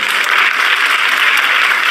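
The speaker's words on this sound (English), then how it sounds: "I heard the clap. I stopped for it." Applause from an audience in a recorded speech, a loud, dense and sustained burst of clapping from many hands, steady throughout with no voices on top.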